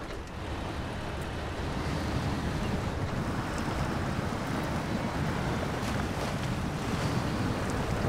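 A truck pushes through river water in the SnowRunner game, giving a steady rushing, sloshing wash with a low engine rumble underneath, loud and continuous throughout with no talking.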